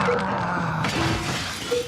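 Glass smashed in a zombie tower video game, a sharp shattering crash followed by a lingering bright rattle of shards over steady game background noise.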